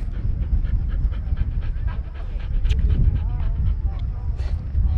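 A dog panting hard on a creek trail hike toward a waterfall, rapid rhythmic breaths close to the microphone, with a few small whimpers mixed in and a voice speaking briefly partway through.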